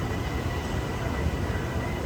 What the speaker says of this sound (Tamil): ட்ரெயின் கிளம்பிருச்சு